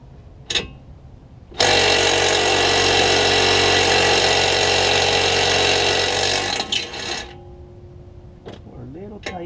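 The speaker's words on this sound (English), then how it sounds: "Now we need to loosen the 3 bolts." Power tool loosening a slightly rusty bolt on a Tesla Model 3 AWD wheel hub, giving one loud, close, steady whirring run of about five seconds, with a voice speaking briefly before and after.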